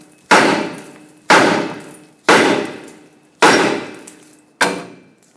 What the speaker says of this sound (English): Now take a hammer and tap the knuckle right here so the tie rod stud can break free.